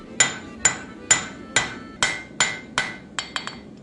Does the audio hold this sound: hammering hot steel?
yes